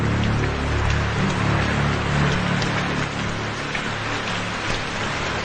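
Steady rain falls in a dense, even hiss that holds throughout, with no voices.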